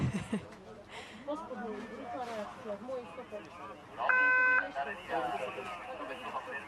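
Start-gate countdown beep at a men's para alpine giant slalom on a mountainside, a steady electronic tone lasting about half a second amid commentary and crowd murmur.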